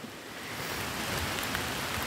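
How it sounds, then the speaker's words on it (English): Steady rain falls outdoors at a woodland bushcraft camp, an even wash of patter on the surroundings with no voices, continuous and fairly close throughout. "Can you hear it rain,"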